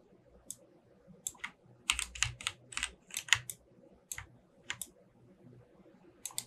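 Computer keys clacking in an irregular series, close and crisp, with a quick cluster of presses in the middle.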